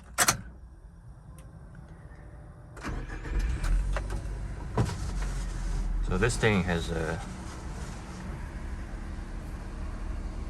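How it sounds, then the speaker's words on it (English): A Suzuki Carry kei truck's small 660cc engine cranks and starts, then settles into a steady idle while someone talks over it. "And let me turn on the engine."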